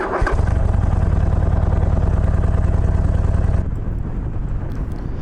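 A Harley-Davidson Iron 1200 motorcycle on the road, its V-twin engine thumping loud and steady close by, then easing to a lower, quieter rumble as the throttle is backed off.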